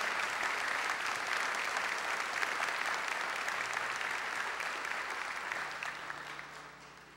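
Applause from a church audience during a sermon, a dense, steady wash of many hands clapping that holds for several seconds and then slowly fades.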